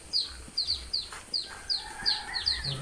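A hen that has laid eggs gives short, high, clucking calls, about ten in quick succession over a few seconds, close by and fairly loud, with no talk over them.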